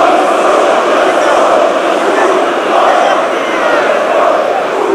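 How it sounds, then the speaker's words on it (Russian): Partizan football supporters fill a stadium with a continuous hostile roar greeting CSKA Moscow striker Ivica Olić, a dense, steady wall of crowd noise with no pauses. "Слышите, каким гулом, добрым в кавычках, встречают болельщики «Партизана» и Ивицу Олича"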